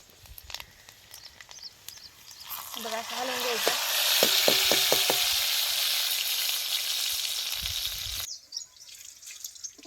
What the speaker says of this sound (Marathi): आता हे लसूण आपल्याला चांगला लाल लालसर तळून घ्यायचा आहे